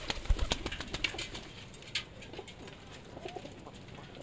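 Pet pigeons coo softly in a loft, low rounded calls mixed with faint bird chatter and occasional knocks, moderately close with no talking.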